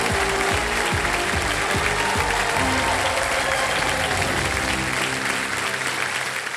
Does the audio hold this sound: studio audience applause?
yes